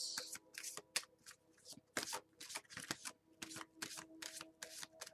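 Tarot cards handled and shuffled from a deck, quick papery riffles and flicks in a rapid, irregular rhythm, close and quiet with no talk.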